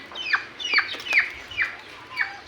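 Clucking bursts from a mother turkey while her dark chicks are moved, about five short rising calls repeating at a steady pace, fairly close, over faint background.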